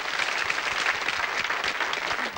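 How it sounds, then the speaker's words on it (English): A 1981 television game show studio audience applauds a contestant couple, a full, continuous wash of clapping throughout. "Give them a round of applause, folks."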